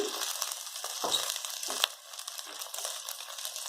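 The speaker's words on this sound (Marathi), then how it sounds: "आपले वाटाणे छान भाजून झाले आता राईस घालूया" Rice tipped into a pan of roasted green peas, making a steady close sizzle and frying hiss with a couple of brief scraping stirs.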